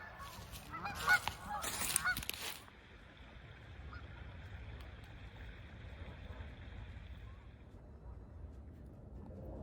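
Canada geese honk loudly for a few seconds at the start, a burst of overlapping calls, then fade to a low outdoor rumble like distant water or wind for the rest.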